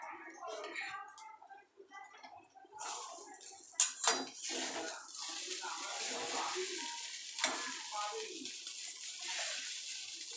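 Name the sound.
stirring sago khichuri with sugar in a pan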